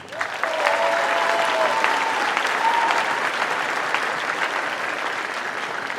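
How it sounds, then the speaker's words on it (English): Steady, dense applause from an audience in a high school gymnasium at an all-city band concert, sustained for several seconds with faint voices and whoops mixed in. "Big round of applause for Ashton"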